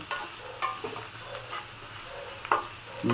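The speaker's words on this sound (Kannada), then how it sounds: "ಈಗ ಆನಿಯನ್ ಚೆನ್ನಾಗಿ ಫ್ರೈ ಆಗಿದೆ" Onions frying in a pan for puliogre gojju, a soft steady sizzle with occasional stirring scrapes and clicks of a spoon, close and moderately quiet, no talk.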